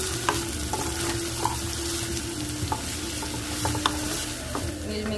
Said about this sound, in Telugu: ఇప్పుడు దీంట్లోకి మనం వేడి నీళ్ళల్లో వేసుకునేటువంటి మీల్ మేకర్ వేసి కూర ఫ్రై అవనిద్దామండి